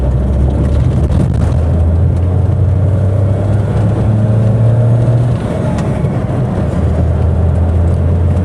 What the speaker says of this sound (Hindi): तो देखिए सेकंड गियर में हमने रेस दे दी।